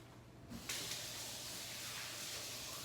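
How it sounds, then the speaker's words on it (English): A kitchen faucet suddenly gushes on, a steady close hiss of running water as hands are rinsed under it, continuing without pause. "I'm gonna rinse my hands off real quickly"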